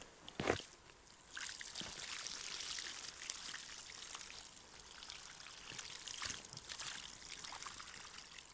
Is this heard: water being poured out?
yes